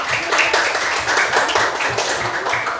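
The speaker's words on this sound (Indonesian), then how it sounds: "Tepuk tangan dong dulu." Schoolchildren in a classroom clap together in a rhythmic, patterned beat, the group clapping steady and moderately loud throughout with no talking.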